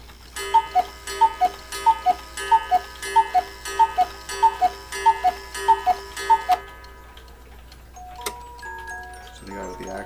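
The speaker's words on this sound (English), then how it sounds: "That's my quail cuckoo clock in the background there." A quail cuckoo clock sounds nearby in a room. About a dozen evenly spaced, bright pulses come in a steady rhythm, then stop, followed by a few scattered faint knocks.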